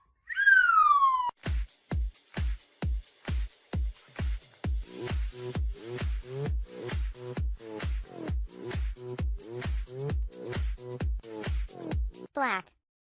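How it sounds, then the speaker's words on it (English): A cartoon police car gives a short siren sweep, then a long run of evenly spaced, loud, punchy electronic honks or whoops pulses continuing at a steady rhythm for about eleven seconds, ending with another brief rising siren burst. "Police car."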